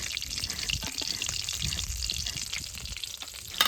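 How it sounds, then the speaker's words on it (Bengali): Prawns frying lightly in a pan, a close crackling sizzle with watery spattering and a few stirring knocks, steady throughout. "এরকম হালকা করে সব মাছগুলো ভেজে নেবো"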